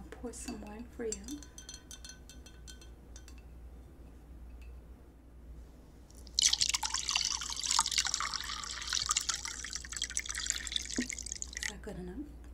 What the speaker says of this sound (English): Now I'll pour some wine for you.